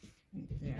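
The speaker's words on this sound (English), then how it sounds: "That is my little dog, Chihuahua" A small Chihuahua whimpers and whines for attention in the background, faint and fairly close, as a person says a few words.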